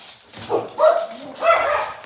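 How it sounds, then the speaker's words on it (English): Pet dogs bark indoors in a few short, fairly loud bursts close by, with brief whimpering tones between them. "sorry about that, my dogs"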